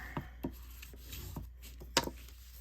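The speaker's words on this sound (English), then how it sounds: "So we will fold and burnish our card base here." A bone folder burnishes a folded card base in a few soft, brief rubbing strokes, quiet and close, with no talking.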